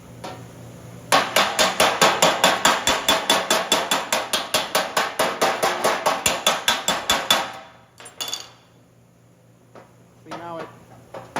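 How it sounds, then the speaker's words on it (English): Hammer and dolly work on a sheet metal weld seam: a fast, even run of sharp metallic taps close up for several seconds, then a pause and a few scattered knocks. "So we'll just lightly hammer and dolly that"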